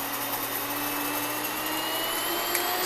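An electric grain mill grinds whole wheat kernels into flour in a home kitchen, giving a loud, steady whirring drone with a constant hum and no speech.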